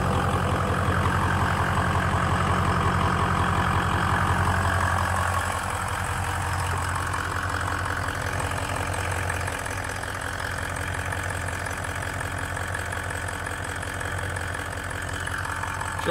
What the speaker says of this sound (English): Get you an idea of what that exhaust sounds like